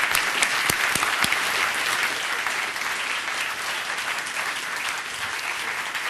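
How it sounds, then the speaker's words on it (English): Sustained audience applause at a policy conference on enlargement, a dense steady wash of many hands clapping at even loudness for about six seconds, with no talking over it. "Join me in a round of applause for our speakers."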